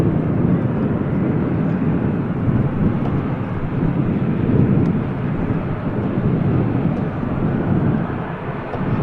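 A fixed-wing airliner at Manchester Airport produces a steady, loud low engine roar that rumbles evenly throughout without pause, heard alone with no voices.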